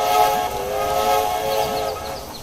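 A train running in the video game Railway Empire, with a steady rolling rumble and faint whistle-like tones held throughout, no voices.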